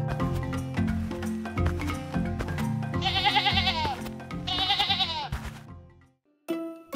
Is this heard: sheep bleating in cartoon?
yes